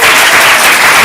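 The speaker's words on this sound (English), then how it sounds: "Give Paul a round of applause" Audience applause at a stand-up comedy showcase: a loud, dense burst of clapping from a crowd, steady throughout the short moment with no talk over it.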